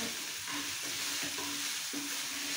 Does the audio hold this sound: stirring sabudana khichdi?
yes